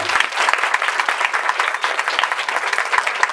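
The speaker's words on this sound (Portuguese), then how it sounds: "uma salva de palmas para o Caion" Loud, steady applause from an audience at a comics panel during a literary festival, a close, dense wash of clapping that carries on without a break.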